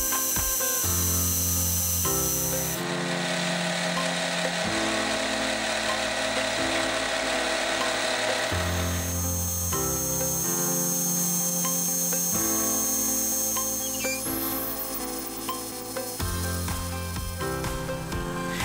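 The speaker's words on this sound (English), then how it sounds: "and then drilled and reamed the centre." A lathe drills and reams the centre of a 1.5 inch steel rod section in a home machine shop, giving a steady mechanical whir and rattle with the motor starting and stopping in several bursts.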